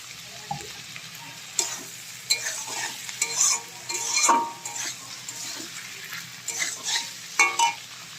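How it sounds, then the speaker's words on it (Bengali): Chow mein stir-frying in a pan as soy sauce goes in, with a steady sizzle broken by repeated scraping and clinking of a utensil against the pan. "দেখো বন্ধুরা, এবার সয়া সস দেবো।"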